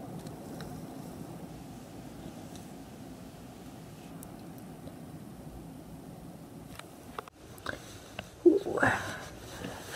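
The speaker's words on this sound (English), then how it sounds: "Do you hear that wind?" Snowstorm wind rushes in a steady, moderately loud roar for most of the stretch, then gusts and buffets harder near the end with a few sharper bumps.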